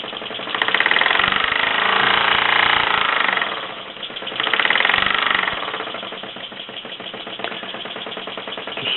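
A 1949 Mamod SE2 toy steam engine running with a fast, steady mechanical chuffing rattle that swells louder, dips around the middle, then settles into an even rhythm, close up.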